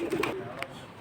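Silver pigeons coo in short, low, rounded bursts in the first half, followed by a quieter murmur, with faint background voices.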